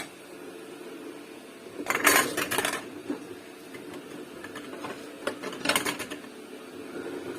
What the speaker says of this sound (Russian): потом я по размеру тарелок вот так складываю их